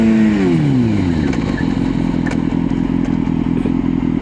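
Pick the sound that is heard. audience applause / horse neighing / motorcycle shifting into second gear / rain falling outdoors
motorcycle shifting into second gear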